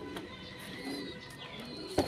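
Pigeons coo softly in a quiet enclosure, a few low murmuring calls with a faint scuffle near the end.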